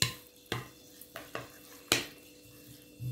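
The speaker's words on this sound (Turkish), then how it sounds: "Şimdi bakın şöyle bir karıştıralım." Spinach is stirred in a cooking pot, with sharp utensil scrapes and knocks against the metal at irregular intervals and a softer rustle of leaves between them, close and moderately loud, no voices.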